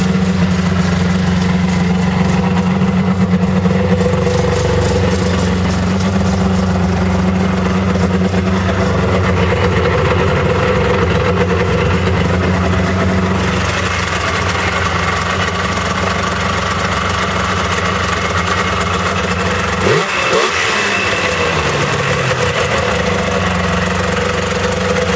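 A Yamaha VMax SX 600 triple-cylinder modified snowmobile engine runs steadily at idle, loud and close, with a rough, knocking two-stroke burble and a brief revving blip near the end.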